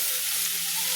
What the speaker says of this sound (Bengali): মাঝারি ফ্লেমে আমি ভেজে নিচ্ছি।